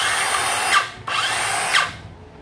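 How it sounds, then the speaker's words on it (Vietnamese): A Makita 18V cordless reciprocating saw running on a 14V battery gives two steady, close, buzzing bursts. A brief pause separates them, and no one speaks. "Cưa 18V có thêm, em cắm pin 14 cho chạy thôi nha."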